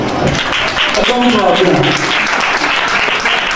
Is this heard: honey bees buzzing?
no